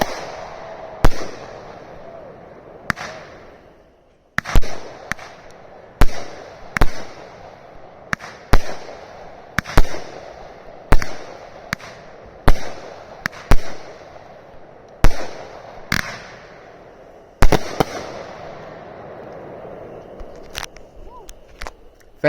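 Fireworks set off with a P12 firing system: a long run of sharp, loud bangs at irregular intervals, each with a decaying rumble, some close together, others spaced a second or more apart.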